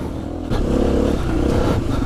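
A KTM 350 EXC-F enduro motorcycle engine braking on a dirt trail gives a steady, close engine drone that shifts in tone as revs change, heard alone with no talk.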